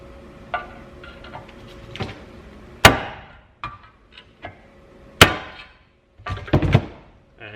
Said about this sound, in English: I'm just going to pretty much hammer out this old seal, so it doesn't matter if it gets damaged or anything.